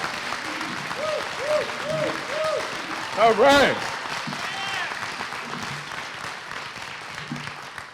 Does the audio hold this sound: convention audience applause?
yes